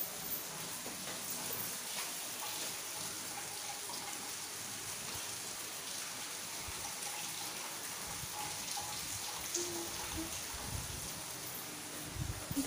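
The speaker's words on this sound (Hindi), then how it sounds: "बाहर बारिश हो रही है बहुत तेज।" Steady, dense hiss of heavy rain pouring outside, a constant wash of noise with no voices.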